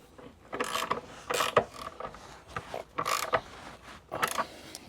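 Ratchet wrench tightening a flange nut down against a big steel washer on a fold-down bench vise, heard as several short bursts of clicking strokes with pauses between, fairly close and moderately quiet.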